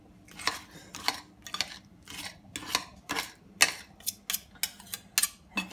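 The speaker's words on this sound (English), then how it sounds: "I'm just gonna get the knife and cut up some of the larger pieces of skin." A knife chops through skin-on potato mash of Bramley apple, Gorgonzola and mustard, tapping sharply against the bowl or board in a steady run of about a dozen close, crisp knocks, with no voices.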